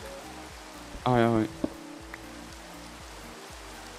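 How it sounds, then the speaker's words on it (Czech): Rain from the video game Minecraft makes a soft, steady patter in the background, while a person briefly speaks over it. "No já nevím, proč Boťa nevypne déšť."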